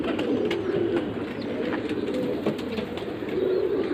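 Pigeons coo steadily in low, throaty rolls, with several birds overlapping close by against a faint outdoor background.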